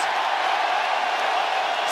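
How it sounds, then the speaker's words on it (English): Cheering UFC arena crowd in a steady, loud roar of voices, a dense wash of sound with no single voice standing out, continuous across the short stretch. "crowd voicing its appreciation"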